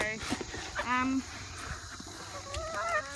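Backyard chickens cluck and cackle in short bursts close by, with people talking over and between the calls.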